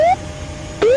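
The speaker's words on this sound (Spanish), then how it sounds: "Las alarmas continúan sonando." Cockpit terrain warning alarm in a descending airliner on approach: a rising electronic tone sounds briefly, breaks off, then rises again near the end, loud and clear with no talk.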